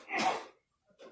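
A single short sneeze, fairly loud and close, bursting out and fading within half a second, followed by a brief quiet breath.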